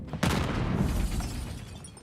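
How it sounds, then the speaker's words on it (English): Glass windows shatter in a Call of Duty match, a sharp crash followed by a dense wash of breaking shards and scattered gunfire-like debris, fairly loud and continuous in the game mix. "Smashing windows, every single one he can."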